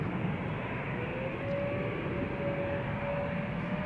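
Aircraft at Amsterdam Schiphol Airport runway, a steady distant jet engine rumble with a faint sustained whine, continuous and moderately loud.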